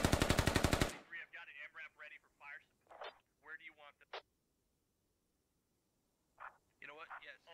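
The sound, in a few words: gunfire from long range shots in the video game Squad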